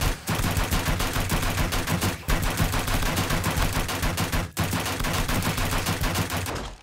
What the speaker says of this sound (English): Man, the full auto on the pistol is so nice.